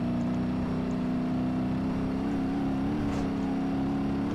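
Truck engine straining uphill in the driving game BeamNG Drive, a steady, loud, low droning whir with a constant pitch throughout and no voices.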